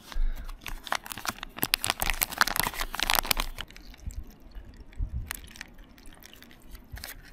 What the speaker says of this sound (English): We simply need to tear this notch on here.